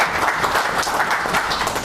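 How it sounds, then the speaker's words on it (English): Audience applause at a high school quiz competition in Zimbabwe, a dense, steady wash of many hands clapping at even loudness throughout. "May we also give them a round of applause."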